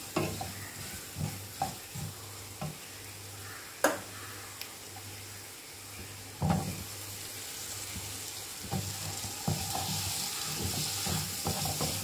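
Cashew curry with Malvani masala sautéing in a pan, a soft steady sizzle broken by a series of sharp clicks and scrapes of a spoon stirring against the pan, fairly faint and with no talking.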